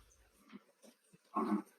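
Several dogs in the background give soft whimpers and a brief louder bark-like burst near the end, faint and distant overall.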